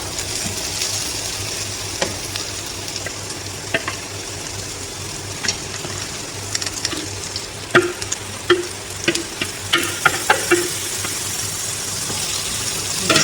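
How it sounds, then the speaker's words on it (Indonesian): Grated white radish stir-fries in a hot pan with a loud, continuous frying crackle, broken by frequent scraping and clacking strokes of a spatula that grow busier toward the end. "Tumis terus, wangi banget."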